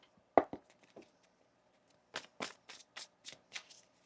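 Tarot cards shuffled by hand in a few crisp riffling bursts, one near the start and a quick run of rustling flicks later, close and alone with no talk.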